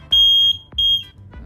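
Loud piercing tone from a 12-volt flame and light sensor alarm buzzer, sounding in two close, strong beeps with a brief gap between them, near and dominant with a faint hum underneath.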